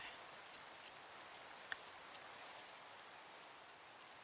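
Steady rain falls in Minecraft with the ATM 11 modpack, a soft even hiss with a few sharper drop ticks, close and unbroken, with no talk over it.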